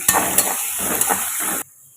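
Steady sizzling of food frying with salt in a pan, punctuated by a few metallic clinks of stirring, then it cuts off abruptly.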